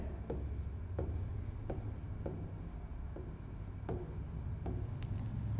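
Someone writes numbers by hand during a Grade 2 maths lesson, a faint, soft scratching of pen or chalk with regular light strokes over a quiet background.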